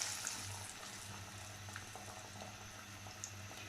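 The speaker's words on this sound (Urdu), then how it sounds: "اب ہمارا آئل گرم ہو چکا ہے، اس میں ایڈ کرتے ہیں بھلے۔" Dahi bhalle, urad dal fritters, dropped into hot oil and frying with a steady soft sizzle and bubbling, close and even throughout with no talk.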